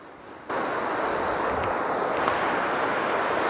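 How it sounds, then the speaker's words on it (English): Amity Creek rushes steadily along Seven Bridges Road toward the Lester River. A dense, continuous broadband wash of flowing water begins abruptly after a brief quieter moment and holds even and close for the rest of the clip. "This is the Amity Creek"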